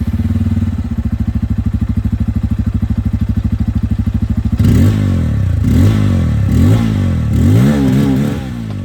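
A Bajaj Pulsar N250 motorcycle with a dual-barrel exhaust idles with a rapid, even pulsing thump, then gets blipped in four or five sharp revs that rise and fall, loud and close, with no talk.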